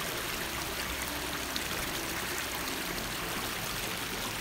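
River water flows steadily at Poço Negro on the Rio Mau, a continuous broadband rushing and trickling with no breaks, fairly close and unbroken by voices.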